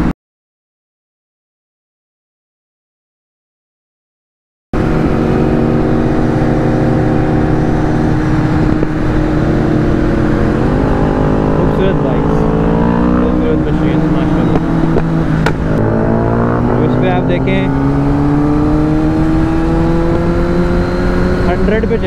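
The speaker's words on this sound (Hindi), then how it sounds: "चला गया पहले गियर में और अभी भी मैं चेंज करने की जरूरत नहीं पड़ी।" A Kawasaki Ninja ZX10R motorcycle ridden in first gear, its engine droning steadily with rising and falling revs after a few seconds of silence, loud and close, with someone talking over it.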